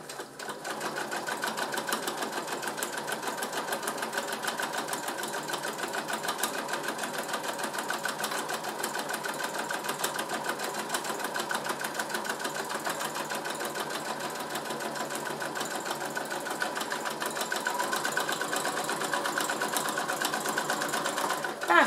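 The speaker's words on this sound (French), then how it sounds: "je lève le pied et je repars pour ma couture." A sewing machine stitches fabric for a glasses case with a fast, even mechanical rattle that runs steadily and close for over twenty seconds.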